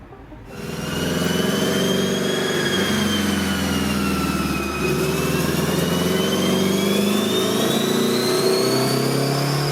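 A Honda CRX engine revs steadily upward toward VTEC, a continuous loud mechanical drone with rising, sweeping pitch held for several seconds, heard close and alone without voices.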